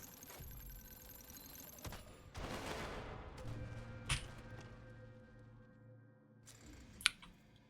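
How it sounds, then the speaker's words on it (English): A minigun in the video game Dome Keeper fires in rapid, dense bursts of small clattering shots, with the rattle rising and falling across the clip and punctuated by a few sharper impacts. "I never really took the time to listen to the minigun. It sounds adorable."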